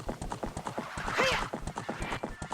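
A horse gallops in the video game Ocarina of Time with rapid, rhythmic hoofbeats up close and a short neigh in the middle, while someone talks over it.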